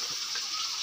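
Running water pours steadily while something is washed, a short, even gush of close tap water with no talk.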